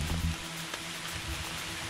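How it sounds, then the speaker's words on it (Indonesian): Light drizzle beginning to fall on a mountain trail, a soft, steady hiss of fine rain spread evenly throughout with no voices. "Ini mulai gerimis walaupun belum besar"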